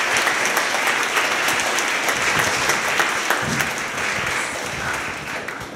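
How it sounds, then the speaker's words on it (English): A crowd at a tech demo day event in Queens claps steadily in dense, sustained applause that fades slightly toward the end. "Please give her a round of applause and welcome up here to the stage."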